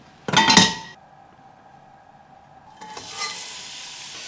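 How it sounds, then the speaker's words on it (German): Onions sweating in a hot pan with oil, a short loud sizzling, stirring burst that drops to quiet, then a second softer sizzle rising near the end. "Jetzt schwitzen wir die Zwiebeln an."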